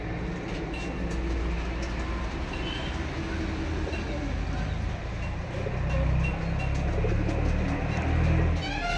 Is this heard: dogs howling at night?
no